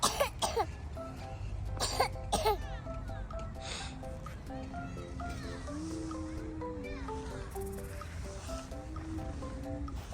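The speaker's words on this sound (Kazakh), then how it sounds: "Қара жөтеліп отыр." A child outdoors in the snow in winter coughs and clears their throat in a few sharp bursts near the start, followed by quieter background sounds and voices in the distance.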